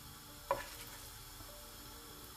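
Olive oil with red pepper flakes sizzling faintly and steadily in a pan, with one sharp clink near the start and nothing else over the low hiss.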